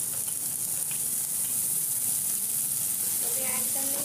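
Green chilies and frozen peas fry in a pan for masala Maggi, a steady soft sizzle and hiss throughout with faint stirring at moderate distance.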